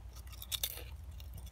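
Chips crunch in a few crisp bites close to the mouth, followed by quieter chewing in a soft, irregular rhythm.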